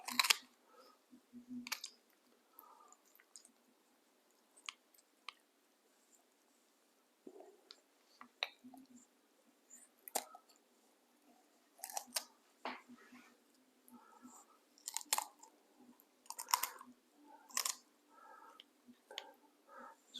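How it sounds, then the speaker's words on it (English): Kitchen shears snipping through the bones of a whole chicken being spatchcocked, heard as sparse, quiet clicks and crunchy cuts in short irregular bursts with long silent gaps. "taking our shears, cut through those bones"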